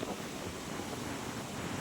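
Sea waves wash continuously onto an eroding beach at Bucana, a dense, steady roar mixed with wind rumble, with no voices.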